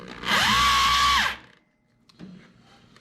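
A power drill sets engine valves under heavy preload, whining loud and strained in one sustained burst that rises, holds and winds down, followed by quiet and faint handling noise.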